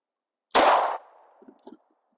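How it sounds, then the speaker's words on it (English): A single 9mm shot from a Springfield Hellcat Pro pistol hits a steel anvil at an outdoor range, giving a sharp loud crack with a ringing tail, followed by a couple of faint metallic clinks. "Next, like always, we've got 9mm. Shooting out of my Hellcat Pro. Let's see if I can hit it here."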